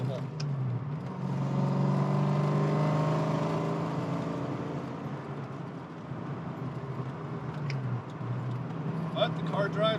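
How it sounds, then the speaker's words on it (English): 1993 Foxbody Mustang converted to a 5.0 V8 drones steadily through a rough, harsh-sounding exhaust while driving through the gears, heard from inside the car. "That exhaust sounds horrible."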